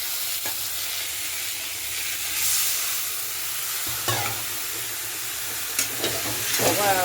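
Curry with spices cooks in a kadai, giving a steady hiss and sizzle with occasional scrapes and clinks of stirring, heard close with faint voices in the background.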